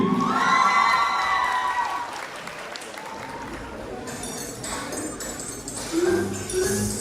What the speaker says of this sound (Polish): Wielkie brawa na niej!